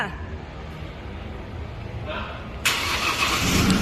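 A Chevrolet Colorado pickup's engine turns over and catches, its hum rising and then settling into a steady idle that stays fairly loud and close.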